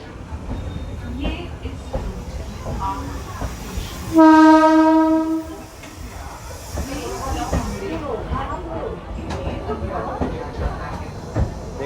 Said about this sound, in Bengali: এই ট্রেনটি এই মুহূর্তে শান্তিপুরে ঢুকছে